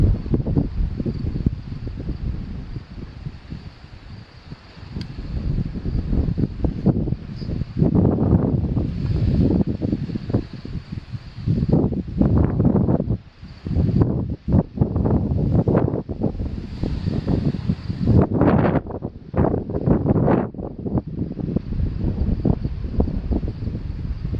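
Strong wind during a storm in Iowa buffets the microphone with continuous gusting roar and rumble, rising and falling for about twenty-four seconds.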